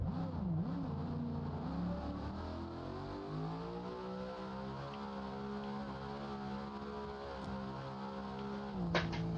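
A custom-built car in the BeamNG.Drive driving game, its engine holding a steady droning hum with slowly rising and falling pitch, fairly quiet and alone, ending with a brief click.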